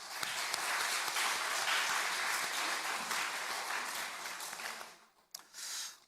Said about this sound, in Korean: 세대와 주일 경배 찬양팀 축복하고 격려하는 박수 하도록 합니다